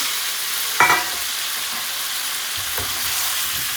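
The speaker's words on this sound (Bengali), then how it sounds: "মাছ কষে এনেছি এখন দিয়ে দিচ্ছি কেটে ধুয়ে রাখা মূলা" Steady close sizzling of frying shrimp in a pan, with a brief louder splash as cut radish is added, then continued hissing.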